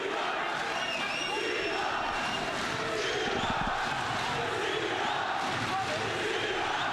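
A boxing crowd in Hamburg shouts and chants a boxer's name during a heavyweight bout, a dense, continuous roar of many voices filling the arena throughout.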